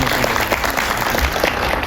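Steady applause from a public audience and media guests at the launch of a PVR INOX PXL cinema screen in Hubballi, a dense continuous clatter of many hands filling the whole stretch at even loudness.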